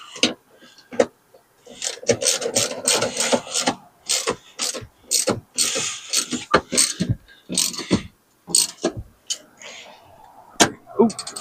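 A ratchet mechanism tightening the back of an incline and recline seat, giving irregular close mechanical clicks and clunks in bursts, mixed with handling noise and some talk.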